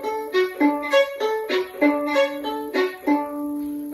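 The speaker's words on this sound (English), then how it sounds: "he uses some new techniques for string quartet writing, and one of them is called left hand pizzicato." String quartet players pluck notes with their fingering hands in a left-hand pizzicato passage, producing short, bright plucked notes in quick, clustered rhythmic bursts at close range with no voices.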